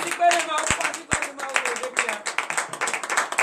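A congregation at a Thursday morning prayer service claps in acclamation, with quick, uneven handclaps mixed with voices talking and calling out, close and fairly lively.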